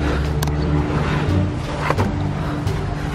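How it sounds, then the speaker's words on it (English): A car on a residential street rolls past with a steady low engine drone and broadband road noise, fairly close and continuous, with a couple of brief clicks and knocks over the top. "Another car coming."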